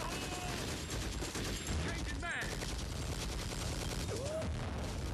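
Infantry gunfire in the shooter game Conflict: Global Terror rattles as rapid, sustained automatic bursts with dense overlapping shots, loud and continuous, with a brief swooping effect midway and voices shouting in the mix.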